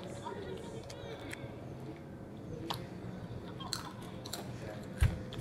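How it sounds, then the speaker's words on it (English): Doritos chips being eaten, with soft crunchy chewing going on steadily underneath continuous low background noise and a sharp knock near the end. "Now I'm gonna eat Doritos."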